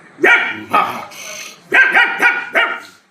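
A human voice imitates a house dog barking at a visitor, giving five or six loud, gruff barks in uneven bursts, close up.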